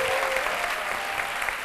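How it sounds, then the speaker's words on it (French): Steady, enthusiastic applause from a large audience at the Palais de la Culture, continuous clapping filling the space without pause. "On l'applaudit encore plus fort."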